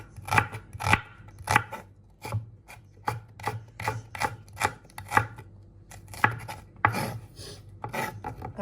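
Onions are chopped on a board in a home kitchen, a run of sharp, close knife strikes in an irregular rhythm, some quick doubled cuts, with no talking.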